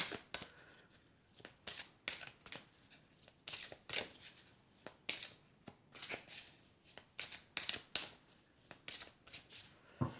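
Oracle cards shuffled and drawn for a heart-chakra reading, a steady run of crisp riffling bursts and soft slaps repeating close up, alone without talk.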